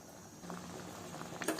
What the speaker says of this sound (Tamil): குழம்பு நல்லா தலை கொதிக்குது.